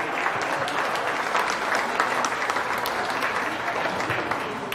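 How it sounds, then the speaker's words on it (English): A crowd at a county fair dairy show gives beginner showmen a steady round of applause, even and sustained throughout, fairly soft and spread out as in a show ring. "Give our beginner showmen a round of applause for coming out here."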